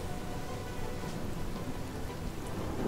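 Steady rain falls in the fantasy role-playing game Divinity: Original Sin, a constant dense hiss of drops hitting the ground, even and unbroken throughout, with no talking.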